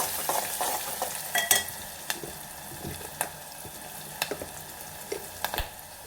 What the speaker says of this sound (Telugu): ఒక టీ స్పూన్ పసుపు అయితే వేస్తున్నాము మంచిగా కలుపుకోవాలి